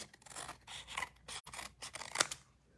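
Scissors snip through paper from the back of a fall-themed craft project, a quiet series of crisp cuts and rubbing slides over a few seconds, close up with no talking.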